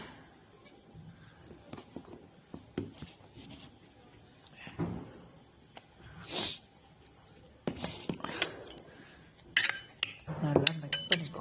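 A spoon scrapes and clinks against a bowl while chopped banana is mixed with ice cream, in scattered close taps and scrapes with quiet gaps between.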